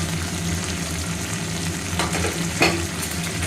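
Dried red chillies sizzle and crackle in hot oil for a tempering, a continuous close frying hiss with a brief stir or clatter near the end.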